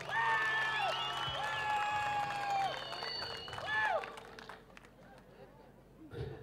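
Audience applause and cheering at a jaripeo bull riding rodeo finals in Florida rise loud and sustained from a crowd while a brassy band plays along, then fade toward the end.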